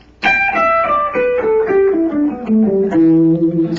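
A distorted electric guitar plays a pentatonic scale as single sustained notes, eight or so, stepping steadily downward and ringing close and loud with no talking.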